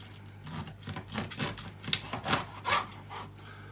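A knife cutting a chicken breast in half through the breastbone: a run of close, rasping, crunchy strokes in an uneven rhythm, with a few sharper cracks as the blade goes through the bone.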